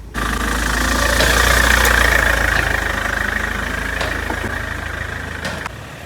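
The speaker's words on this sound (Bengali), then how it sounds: "হালকা করে গাড়িটা বার করে দিলাম" A police car's engine idles steadily and close by as the vehicle is eased forward by releasing the clutch, a low continuous rumble running almost unbroken throughout.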